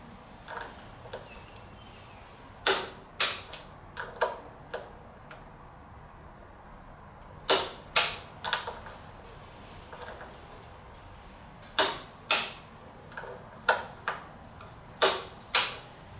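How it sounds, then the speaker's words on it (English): A torque wrench clicking as it tightens the axle bolt on a Honda VTX 1300R motorcycle, sharp mechanical ticks in quick bursts of two to four, close and clear over a quiet background, with no talking. "now we're gonna torque the axle bolt here"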